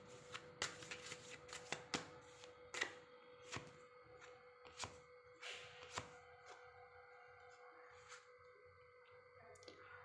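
Tarot cards are handled and drawn, giving close, quiet snaps and papery flicks in an uneven series of sharp taps with soft shuffling between them.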